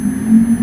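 A brief, steady electronic tone buzzes continuously with a faint high whine above it, from an ultrasonic rodent repeller box installed in a car.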